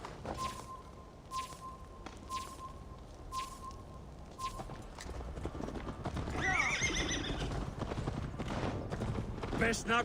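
Steady rhythmic hoofbeats of a horse at speed in the video game Assassin's Creed Valhalla, followed by a loud close whinny, with voices and game sounds mixed in around them.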